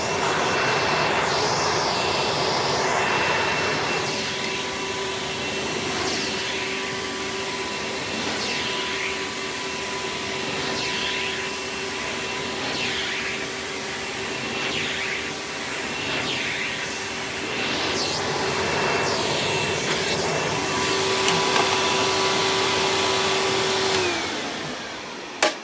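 A Kenmore self-propelled upright vacuum, model 473.38810 (a rebadged Hoover Power Drive), runs steadily and loudly throughout, a continuous motor whine with a fixed hum, and its pitch shifts slightly near the end.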